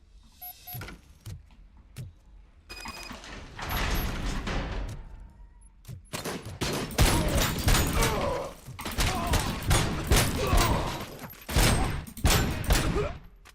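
Gunfire in the video game RoboCop: Rogue City: a few sparse shots at first, then dense, loud bursts of rapid fire with thuds and mechanical clatter, no talking.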